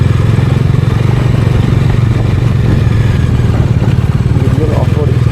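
A motorcycle with a badly worn tyre rides a rough off-road track near Bangalore, its engine throbbing loud and close in a steady rapid pulse with rattling over the bumps.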